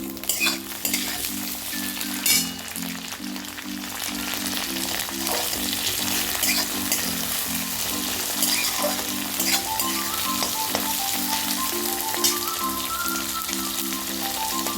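Chopped tomato hits hot oil for a black masoor dal tadka, setting off a loud, continuous sizzle and crackle with occasional stirring, while steady music plays underneath.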